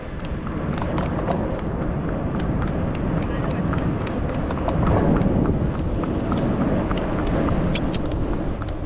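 Horse hooves clip-clop in a quick, continuous rhythm on an outdoor trail during an adventure race in Estonia, loud and close against steady rumbling ground noise.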